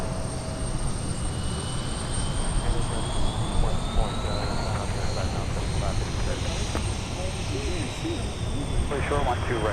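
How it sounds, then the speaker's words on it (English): A propeller-driven airliner's engines roar and drone at an airport, loud and sustained, with a faint rising whine above the rumble and voices speaking over it. "that engine sound is just going to be bonkers when that comes over here"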